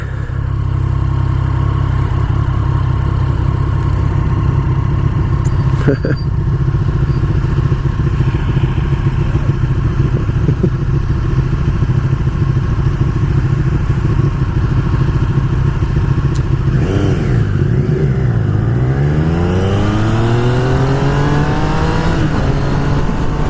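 A 2016 Triumph Street Triple engine idles loud and close with a steady low thrum, then near the end revs up and down in several rising and falling sweeps, no talking.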